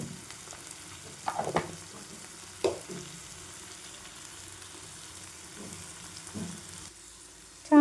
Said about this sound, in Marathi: हा मसाला पूर्ण भाजून घ्यायचा मेथी पण छान भाजायची